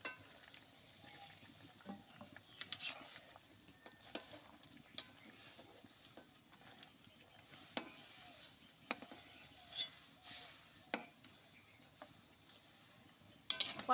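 A metal kadai being scrubbed and washed in a home kitchen, with scattered scraping, light clinks and short knocks over a quiet background, no speech.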